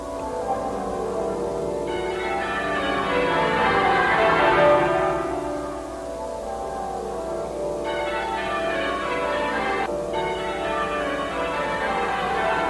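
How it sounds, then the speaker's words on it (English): Church bells of the Abbey ring in a continuous peal, overlapping strikes swelling and fading over a steady background hush, with no talk. "It was a spell broken only by the bells of the Abbey."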